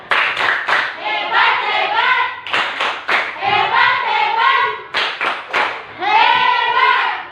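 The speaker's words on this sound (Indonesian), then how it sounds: "Kita tepuk hebat dulu buat kelompok 1. Tepuk hebat!" Fifth-grade classroom does a rhythmic group clap for the first group, with sharp bursts of clapping and children's voices chanting along in short, patterned phrases.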